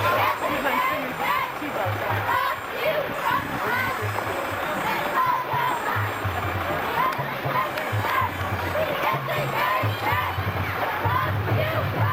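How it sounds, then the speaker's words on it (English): Elementary school cheerleaders chant a cheer at an outdoor 1994 Santa parade in Beverly, Massachusetts, their rhythmic group shouting repeating in short bursts over steady crowd noise and talk. "They just did a cheer for us."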